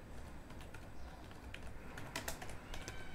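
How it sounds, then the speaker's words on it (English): Fairly quiet typing on a computer keyboard, key clicks scattered unevenly at close range and a little busier in the second half, with no talking. "just go to search bar and type your background"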